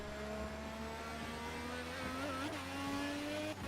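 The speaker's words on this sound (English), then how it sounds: "Keep hearing poorly sampled engine sounds coming from your office." A simulated LMP1 race car engine in Project CARS at Circuit de la Sarthe drones steadily at high revs, its pitch edging upward, a continuous synthetic roar with no voices.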